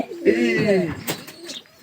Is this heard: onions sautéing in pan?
no